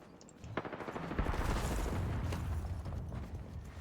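Gunfire crackles in a battle royale video game, with bursts of rapid shots and booming impacts that build into a sustained, dense barrage.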